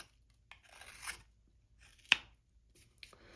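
Knife blade making a small cross cut into wood while carving a wooden scoop: a few faint scraping strokes followed by one sharp crisp snick, close and quiet.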